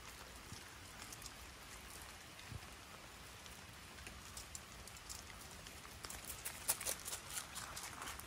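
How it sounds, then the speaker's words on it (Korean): Steady rain hisses on surfaces on a wet August morning by a sports field, with scattered drips and patters, fairly faint and continuous with no one speaking. "비가 많이 오네요. 또 많이 오기 쏟아지기 시작하네요."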